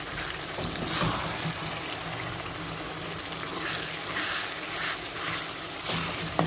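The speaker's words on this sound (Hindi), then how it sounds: "देखिए कीमा हमारा अच्छी तरह भून गया है, इसमें से पानी बिल्कुल खुश्क हो गया है।" Minced meat keema fries in a pan with a steady crackling, watery sizzle throughout, close and moderately loud, with no talking.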